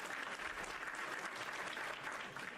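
Steady applause from an audience during a Minecraft building livestream, an even wash of clapping that holds at a constant level for a couple of seconds.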